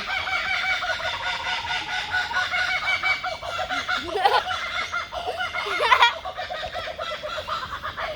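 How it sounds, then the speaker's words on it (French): A loud chorus of kookaburras, cackling, laughing calls rising and falling continuously, with several birds calling at once outdoors in Sydney. "Donc cet oiseau, c'est le kookaburra."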